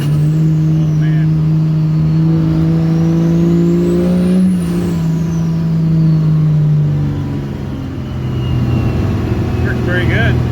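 A Cummins diesel truck with 5x.022 nozzles cruises in second gear, its engine drone steady and loud inside the cab, rising and easing slightly as it pulls along, with faint whistling above.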